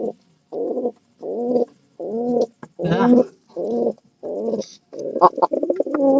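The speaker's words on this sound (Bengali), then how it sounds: "দেখেন পায়রাটার ডাকটা দেখেন আপনারা" A domestic pigeon coos repeatedly at close range in a steady rhythm of about eight short phrases, the final ones breaking into quicker throaty pulses, with no talk.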